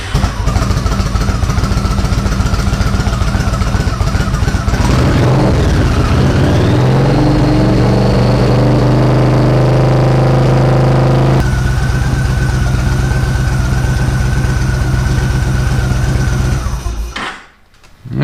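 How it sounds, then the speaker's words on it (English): A car engine runs steadily at around 2500 rpm during a charging test, holding a strong hum until it drops briefly in pitch and climbs back. It stays loud and close the whole time and cuts off abruptly at the end. "Start the engine. Keep around 2500."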